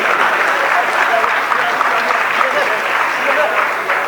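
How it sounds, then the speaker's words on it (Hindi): An audience claps at a college award ceremony, dense continuous applause that stays loud and even throughout, with voices faintly audible beneath it. "आप सबकी जोरदार तालियां हम सुनना चाहेंगे"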